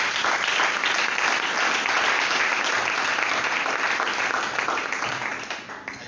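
A church congregation applauds and cheers in sustained, dense clapping that holds steady throughout and tapers slightly at the very end.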